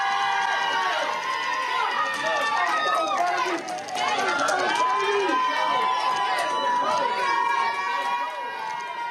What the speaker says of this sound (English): So while y'all are cheering